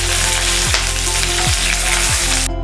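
Green chillies, curry leaves and ginger-garlic paste fry loudly in a pan, a dense steady sizzle broken by three spaced scraping stirs, then cut short abruptly at the end.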